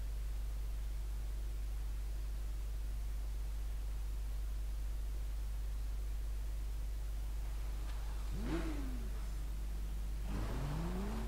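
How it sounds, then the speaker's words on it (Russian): Car engines rev in the Need for Speed Rivals racing game, two rising whining revs near the end over a steady hiss and low hum, the first around two-thirds through and the second shortly after. "Звуки тут, конечно, ребята, машины обалденнейшие просто."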